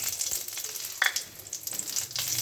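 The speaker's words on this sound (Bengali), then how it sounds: "তেলটা কিন্তু আমার গরম হয়ে গেছে এবার এর মধ্যে আমি একটু রাঁধুনি আর শুকনো লঙ্কা ফোড়ন দিয়ে দেবো" Radhuni seeds and dried red chillies tempering in hot oil, with a steady crackling sizzle and a brief sharper spatter partway through.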